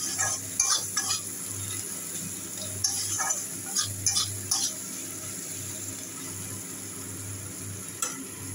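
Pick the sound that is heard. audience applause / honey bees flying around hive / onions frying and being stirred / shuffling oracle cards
onions frying and being stirred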